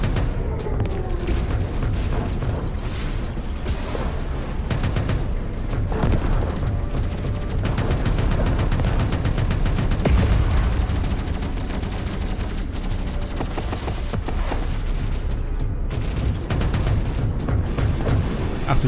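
Cannons in the space video game Space Reign fire repeatedly in dense bursts of booming, gunfire-like blasts, loud and continuous throughout, with a voice heard faintly beneath the battle.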